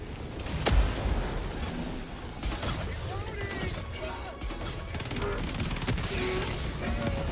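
Gun firing in Halo 3, heard as a steady stream of rapid shots with scattered blasts over a faint background, and one sharper loud report near the start.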